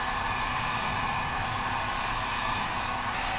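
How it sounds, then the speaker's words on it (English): A heat gun blowing hot air onto craft foam to curve it for a foam helmet gives a steady, loud, even whoosh of airflow with no change throughout, alone without talk. "I'll put a little curve into them by using our trusty heat gun"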